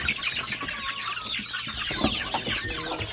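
A flock of farmyard chickens in a feed kitchen cluck and squawk continuously at close range, several birds overlapping.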